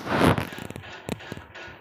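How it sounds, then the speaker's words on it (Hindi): A noisy household ceiling fan gives irregular rattling and creaking clicks, with one louder broadband burst at the start and softer knocks after it. "हमारा पंखा बहुत ज़्यादा आवाज़ कर रहा है"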